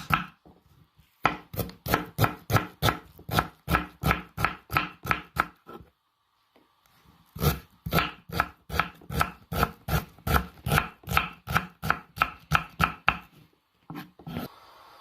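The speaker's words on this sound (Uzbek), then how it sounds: "Bir dona piyozimizni ham mayda kubik shaklda to'g'rab olamiz." A knife dicing an onion into small cubes on a board: rapid, regular chopping strokes in two long bursts separated by a short pause, close and crisp.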